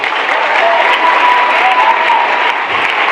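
A crowd at the UN claps in loud, sustained applause, an even wash of many hands with no pauses.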